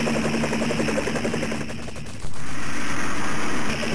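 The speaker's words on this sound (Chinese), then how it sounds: "我捡到了半自动的机枪" A semi-automatic machine gun fires in a video game during a fight against bombers and flying mechanized units, a dense, loud, continuous rattle of rapid shots that keeps going with one brief dip in intensity.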